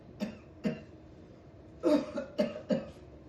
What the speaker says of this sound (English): Why are you doing all that coughing?